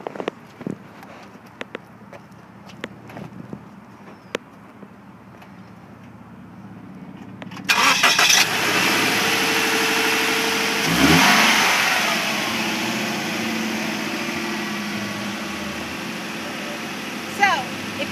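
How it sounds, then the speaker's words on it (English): The boxer engine of a 2013 Scion FR-S cranks and fires at about the midpoint, flares briefly, then settles into a steady idle close by, after some quiet handling noises. "start the motor for you so you can hear this baby run. It does have the boxer motor"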